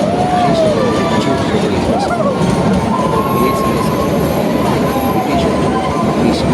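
The narrow-gauge Kalka–Shimla toy train, a British-era mountain railway, rumbles along loudly and continuously, with wheels squealing in drawn-out arcs on curves and a murmur of passenger voices beneath.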